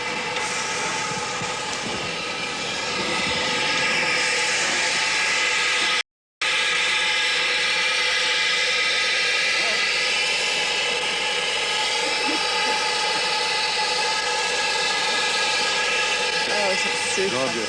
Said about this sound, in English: Colin Umpleby, it was the moment of truth as he opened the regulator to bring Samparai to life